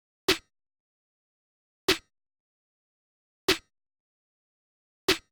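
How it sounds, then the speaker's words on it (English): A sharp trap snare hits four times at an even slow interval, crisp and dry with silence between each strike, playing alone in a beat. "so I just put in this very simple snare pattern that sounded like this."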